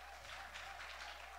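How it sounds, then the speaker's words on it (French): A worship-concert audience gives a brief, thin round of applause, a light, even hiss of clapping over a steady low hum. "Oh non, applaudissements trop petits."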